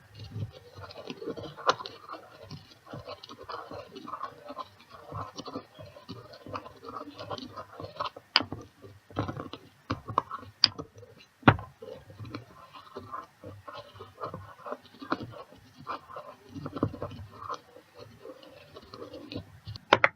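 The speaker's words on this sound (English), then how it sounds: "So cloves are quite hard to grind up." Whole cloves are ground by hand with a mortar and pestle for incense, giving quiet irregular scraping, crunching and clicking that continues throughout.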